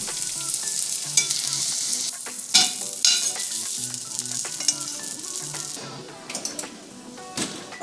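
Salmon basted with grass-fed butter and garlic sizzles steadily in a pan, a close, continuous frying crackle broken by a few louder spoon-and-pan scrapes and stirring bursts, with no talk.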